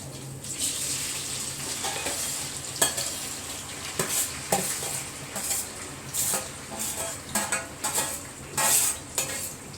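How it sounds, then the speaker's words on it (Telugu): Onions and tomatoes fry in a pan with a steady sizzle while a utensil stirs and scrapes against the metal at intervals, close and fairly loud, with no talk. "ఆనియన్స్ ఫ్రై అయ్యాయి కదా టమాటా అయితే వేసుకున్నాం"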